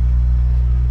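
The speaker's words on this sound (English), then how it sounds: "Starts first try, runs really good." A used Honda car engine with about 240,000 miles idles steadily, a loud, even low rumble that holds without change throughout.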